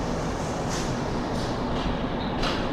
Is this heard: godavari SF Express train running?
yes